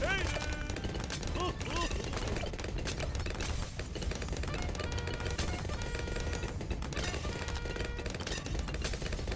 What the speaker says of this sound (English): I want to get that artillery battery going